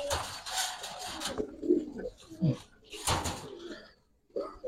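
Giribaz pigeons coo softly in a rooftop loft, low throaty calls scattered under nearby talking and handling noises.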